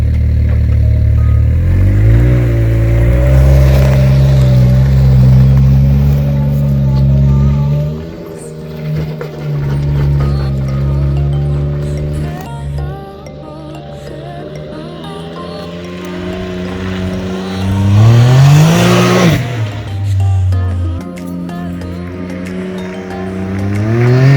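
A custom 2020 Can-Am X3 RC side-by-side, set to its quieter low mode, drives past near parked trucks, its engine note rising and falling loudly as it approaches and passes close by, with no talking.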